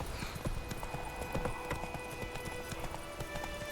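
Geralt's horse Roach trots in The Witcher 3, a quick rhythmic clip-clop of hooves at a steady pace, fairly soft and continuous, with no talking over it.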